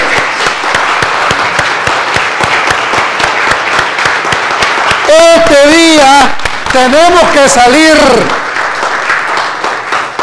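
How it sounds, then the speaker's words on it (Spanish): A church congregation claps loudly and steadily while someone speaks over it in Spanish, then he sings a couple of long, wavering phrases before the clapping ends. "demos un fuerte aplauso al Señor"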